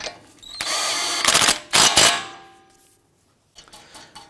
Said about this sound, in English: Let's go ahead and tighten down our axle nut.